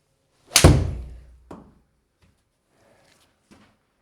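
A 7 iron strikes the ball during indoor golf practice, a single sharp, loud impact with a short decaying thud, followed by a fainter knock and a few faint soft taps.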